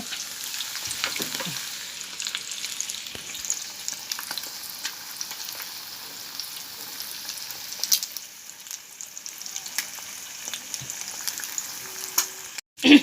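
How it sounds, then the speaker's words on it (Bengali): Food frying for biryani, heard as a steady soft sizzle with light crackles and occasional stirring scrapes, ending in a brief loud knock. "এটাও ভেজে দেব"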